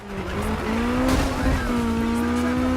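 Car braking hard into a corner in Need for Speed, tires squealing in a rising, wavering whine over engine noise for a few seconds, loud and close.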